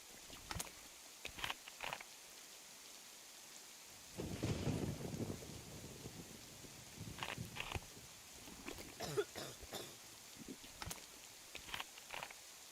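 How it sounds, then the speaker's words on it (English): A thunderstorm with rain in the DayZ video game on the Livonia map: a long, faint rumble of thunder swells in the middle over soft, steady rainfall, with scattered drops and light ticks on either side. "this is just a normal Livonia storm"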